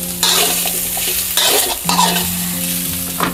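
Salted pork is stir-fried in a pan over medium to low heat. Loud, steady sizzling runs throughout, broken by repeated scraping strokes of a spatula against the pan, heard close and without talk.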